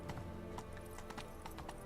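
Horse hooves clip-clopping in the video game The Witcher 3 Wild Hunt, a steady rhythmic trot of repeated hoof strikes, moderately near, over a dense background of game ambience with no speech.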